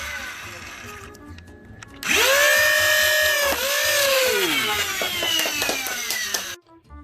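Motor of a modded Nerf MA40 blaster spins up sharply once the power switch is flipped, a loud rising whine that dips briefly, surges again and runs steadily for several seconds before cutting off abruptly.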